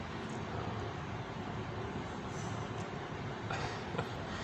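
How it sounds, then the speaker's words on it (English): A sky train rolls past, a steady close rumble of rail noise that holds loud and even throughout, with no talk over it. "Well, there's the sky train."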